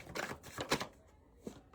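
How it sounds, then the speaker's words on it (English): A deck of tarot cards being shuffled, a few quick riffling bursts close by, then a single soft tap, with no talking. "Last shuffle."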